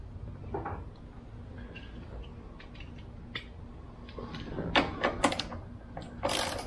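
A 12 mm socket on a ratchet removing the seat bolts of a Suzuki DR650 motorcycle: faint, quiet clicks and small metallic ticks over low background noise, with a few sharper clicks toward the end.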